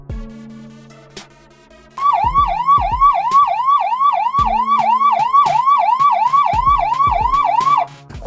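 An ambulance siren in a Sylheti drama scene starts abruptly after a few low thumps, then wails in a fast, steady up-and-down cycle, loud and close, before cutting off near the end.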